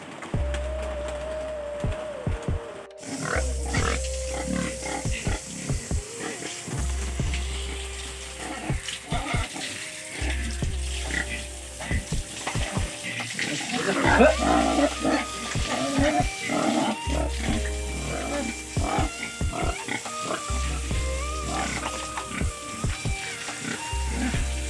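Water runs and splashes steadily as pigs are washed on a small pig farm, with occasional thuds and animal noises mixed in, moderately loud and continuous throughout.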